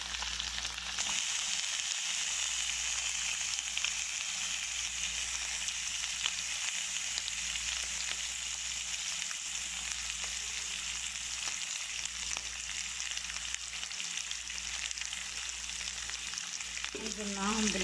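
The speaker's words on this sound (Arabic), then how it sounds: "انزل بالريش، لازم نرجعها تسخين" Lamb ribs searing in a pot, a loud continuous close sizzle and crackle of hot fat that holds steady throughout, with a brief clink near the end.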